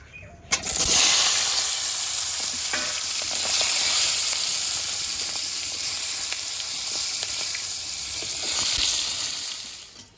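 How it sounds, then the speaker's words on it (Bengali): Brinjal (eggplant) frying in hot oil in a wok sends up a loud, continuous close-up sizzle that bursts in as the pieces hit the oil, with occasional stirring clinks and scrapes, then eases off at the end. "এই বেগুন ভেজে নেব।"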